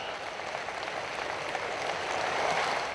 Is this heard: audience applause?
yes